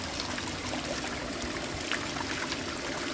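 Steady rush of water pouring from a pump-driven garden waterfall into a pool, a continuous even splashing trickle throughout, close and fairly quiet with no voices.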